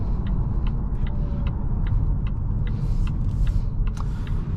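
A 2025 Volvo S60 B5 Core accelerates on the road, heard from inside as a steady low engine and road rumble with a faint regular ticking running through it, no voices.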